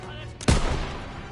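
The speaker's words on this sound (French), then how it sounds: "Ils ont besoin de tirs de couverture." A single loud gunshot from covering fire in the video game Call of Duty: World at War cracks sharply against a low battlefield din, then trails into a brief rumbling decay.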